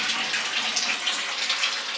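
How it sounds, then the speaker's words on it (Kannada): Tap water runs steadily into a basin at home while a foot soak is prepared for a pedicure, a close, continuous hiss and splash with no speech. "ನೀರು ಬಿಟ್ಟಿದ್ದ ಶಬ್ದ."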